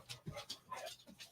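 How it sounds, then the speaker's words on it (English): A dog pants in short, rhythmic breathy bursts, close by and fairly quiet, with no talking over it. "Yeah, the other doggo's coming."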